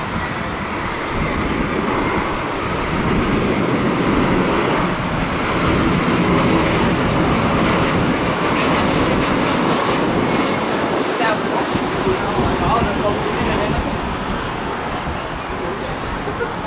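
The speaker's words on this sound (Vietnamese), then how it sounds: "chiếc Boeing 737 Max của Malaysia Airlines đến từ Kuala Lumpur, và chiếc máy bay đang bước vào hạ cánh tại sân bay Tân Sơn Nhất" Malaysia Airlines Boeing 737 Max jet from Kuala Lumpur coming in to land at Tan Son Nhat airport, a steady loud broadband engine roar held throughout with some voices over it.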